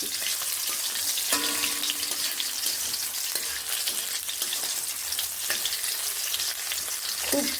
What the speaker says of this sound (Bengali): আর এখানে দিয়ে দিচ্ছি একটুখানি পাঁচ ফোড়ন আর তেজপাতা ফোড়নগুলোকে এইভাবে নেড়ে নিচ্ছি